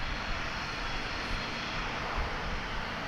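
A Dassault Falcon 900LX tri-jet business jet at DFW Airport gives off a continuous broadband engine roar, steady and fairly distant, with no talk over it.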